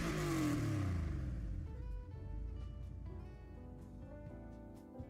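A beefy 1200 engine revs hard at the start, its loud roar then easing into a steadier, lower idle-like drone that fades slightly toward the end, with no talking over it.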